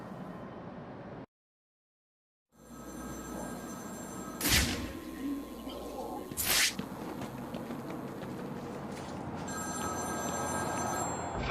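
Telephone ringing in the Batman: Return to Arkham game, two loud, distinct rings a couple of seconds apart over a dense game ambience after a brief silence.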